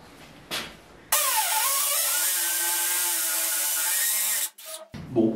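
Power drill boring a hole in resin, a steady loud whirring run of about three seconds that starts abruptly and cuts off, with faint handling noise before and after.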